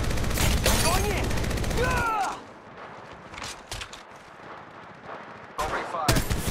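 Automatic gunfire in the mobile game Apex Legends Mobile comes in rapid bursts, loud and close, with a pause of scattered shots and effects in the middle before heavy firing starts again.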